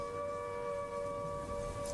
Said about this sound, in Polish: Później znowu zawyły syreny.